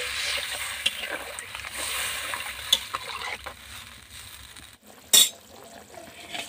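Water goes into a pan of frying potatoes and peas, giving a steady hissing sizzle with a few soft clinks and one sharp metallic knock near the end.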